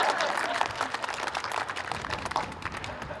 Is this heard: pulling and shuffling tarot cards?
no